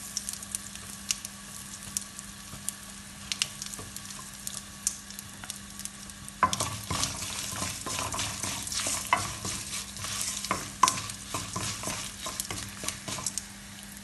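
Spices for puliyodharai, with turmeric and asafoetida added, fry in a pan, a faint steady sizzle that turns busier and louder midway as they are stirred, with scraping and light tapping.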